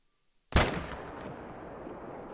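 A hunting rifle fires in the video game The Hunter Call of the Wild: one sharp, loud shot breaks a near silence, followed by a long, rumbling echo that fades slowly.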